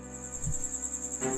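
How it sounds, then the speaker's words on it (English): Cicadas buzz steadily in a nighttime garden in a video game, a thin continuous high drone with a low thump partway through and a slight swell near the end. "Cicadas buzz quietly in the garden."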